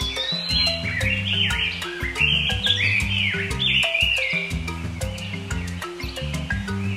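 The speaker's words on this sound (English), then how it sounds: "These baby robins are enjoying a nice cozy nest." Baby robins chirp in a nest with a steady stream of high, rapid tweets and calls layered over a continuous musical backing.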